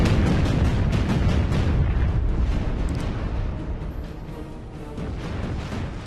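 Heavy naval guns roar at a battleship in a Battlestations: Pacific sea battle, a loud rumbling barrage of booms that fades into a lower, sustained din.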